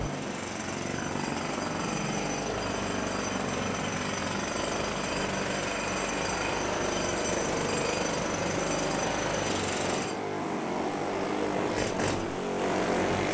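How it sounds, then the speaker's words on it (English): Pneumatic jackhammers chipping through concrete and tile while removing pool plaster, a loud continuous rapid hammering roar close by, steady throughout with slight shifts near the end. "Pneumatic tools, they're super cool. They blow through concrete and can chip through tile like that."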